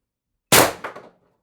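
An Umarex TR50 air rifle running on an HPA tank fires a single sharp, loud shot followed by a quick metallic ringing echo that fades within half a second, with silence before and after.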